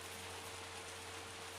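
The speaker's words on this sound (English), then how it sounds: "I'm going to have to turn the rain back on for a bit" Steady rain hiss in an artist's painting setting, a constant even wash of falling drops with no gaps, fairly faint and alone with no voices, plus a low steady hum underneath.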